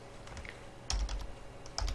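Someone typing on a computer keyboard, a few soft close key clicks over a low steady room hum, with no voice.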